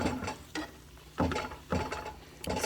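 Besan mixture for burfi stirred in a pan, giving a series of scraping, swishing strokes at a steady, slightly uneven rhythm over a faint sizzle, close and moderately quiet with no talk.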